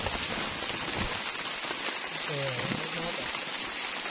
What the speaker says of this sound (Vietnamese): đừng mưa ông ơi mưa là khổ luôn